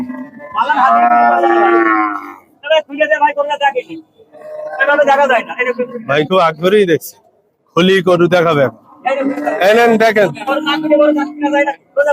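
Cattle moo repeatedly at Satmail cattle market, a busy livestock sale of bulls. Long, loud bellows carry over steady nearby chatter, with people talking throughout.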